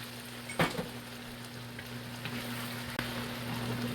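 Meatballs simmer in a pan of jarred sweet and sour sauce, giving a steady, soft sizzle and bubble with a faint clink near the start and a slight rise in level toward the end.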